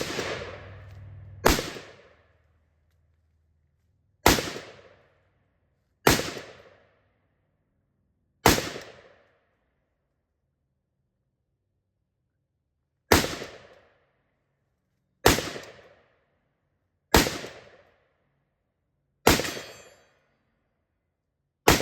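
Bear Creek Arsenal 5.56 rifle on an outdoor range with an upper receiver problem, firing nine sharp, loud shots at irregular intervals, each crack ringing out and decaying, with quiet gaps between.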